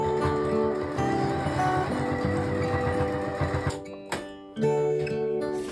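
A sewing machine top stitches around a fabric pumpkin in a crazy quilting project, running in a steady, close mechanical whir for about four seconds, then pausing and briefly starting again.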